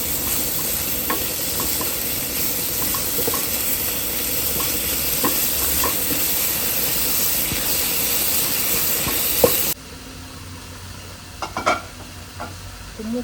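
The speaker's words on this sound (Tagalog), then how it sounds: "Kumukulo na yung ating paksiw." Paksiw bubbling in a pot while cooking outdoors, a steady close hiss and simmer with faint clinks throughout, the boil quieter and sparser near the end.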